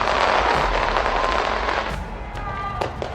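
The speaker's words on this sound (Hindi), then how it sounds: "ऑकलैंड के फेमस स्काई टावर पर जबरदस्त आतिशबाजी की गई।" New Year fireworks over Auckland's Sky Tower crackle and boom in a dense, continuous barrage, loud at first and easing slightly, with faint crowd noise beneath.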